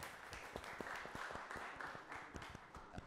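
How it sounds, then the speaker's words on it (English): Faint scattered applause from an audience at a panel discussion on homelessness in New York City, with sharp individual claps over quiet room murmur. "I'll give him a round of applause."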